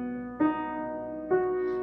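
A piano plays Beethoven's Moonlight Sonata with the sustain pedal held through a chord change, so two soft struck chords blur together into a muddy, ringing wash.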